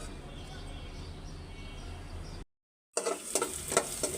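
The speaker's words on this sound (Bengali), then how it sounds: "ভালো করে সুন্দর করে কষায় টমেটো দিয়ে কাঁচামরিচ দিয়ে মাছ দিয়ে" Fish cooks in a pan with tomato and green chili, a soft, steady sizzle that cuts out briefly and then comes back brighter with scraping stir sounds, close and fairly quiet.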